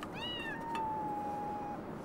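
A cat meows twice, a short rising call followed by a longer, drawn-out wavering meow, moderately loud over a quiet background hiss.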